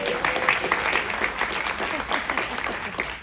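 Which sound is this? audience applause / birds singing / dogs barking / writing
audience applause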